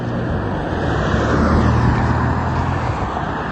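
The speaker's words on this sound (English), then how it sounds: "That loud car has a dim tail light" A loud car rumbles past at night with a dim tail light, its broadband engine and road roar filling the whole moment at close range, swelling slightly in the middle.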